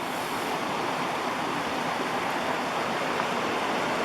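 Creek water rushing steadily in the woods, a continuous broadband hiss of flowing water at moderate level with no breaks and no voices.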